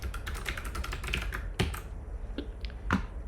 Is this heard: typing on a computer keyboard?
yes